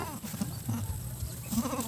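Goats bleat faintly in a farm shelter, with short cries coming in several bursts over quiet background noise.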